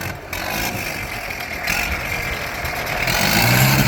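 A tractor engine runs loudly and close by in a rural crowd setting. It holds a rough mid-range drone that builds slightly toward the end, with no talk clearly heard over it.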